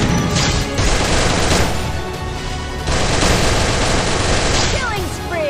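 Loud video-game gunfire and explosive bursts come in dense volleys with brief lulls, the bangs tied to grenade throws during an intense shootout, and a faint voice slips in once beneath the blasts.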